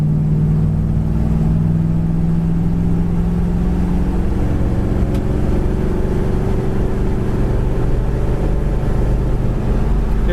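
A 1966 Chevy Impala Super Sport cruises on the road at around highway speed, its engine a steady loud drone with road and wind rumble inside the cabin, pitch rising slightly as it goes.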